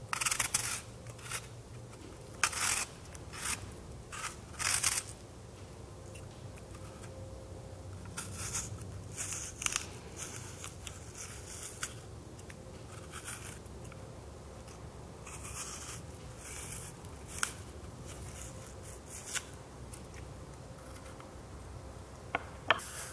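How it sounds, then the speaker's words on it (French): A vegetable peeler scrapes the skin off apples in a kitchen, making a quiet series of short, dry rasping strokes that are busiest at the start and then thin out into occasional soft scrapes. No one speaks. "pelez les pommes à l'aide d'un économe"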